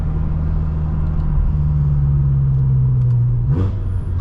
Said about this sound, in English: it's just even the little tiny downshift noises